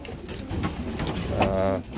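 Pigeons cooing softly in a loft, low murmuring calls under faint room noise with a brief trilling coo near the end.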